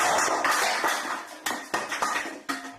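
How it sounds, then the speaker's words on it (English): Pans, a glass and other kitchen items thrown across a room, giving a run of sharp clattering impacts and bangs, several separate crashes over a few seconds with no talk. "throw pans and other kitchen items across the room."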